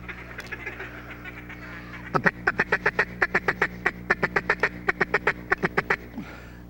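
Ducks quacking in a rapid, loud run of about twenty evenly spaced quacks close by, preceded by softer bird chatter and a low steady hum underneath.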